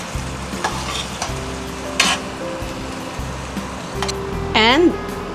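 Ground beef for tacos frying in a pan: a close, steady sizzle with stirring scrapes, a sharp clink of the utensil partway through and a short squeaky scrape near the end.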